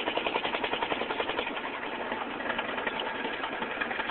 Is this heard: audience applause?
no